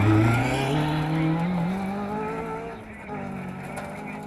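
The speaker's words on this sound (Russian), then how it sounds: "Гул моторов и суета перед стартом." Rally cars idling and revving at the start area before a rally race, engine tones rising and falling in a steady loud rumble with background bustle.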